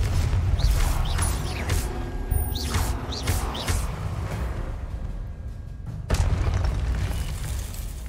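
Confringo fire spell blasts in Hogwarts Legacy, a series of booming bursts with whooshing tails over a low rumbling game backdrop, one heavier impact near the end.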